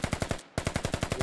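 Rapid automatic gunfire from the video game Squad rattles off in two fast, even bursts separated by a brief gap, loud and close with no talk over it.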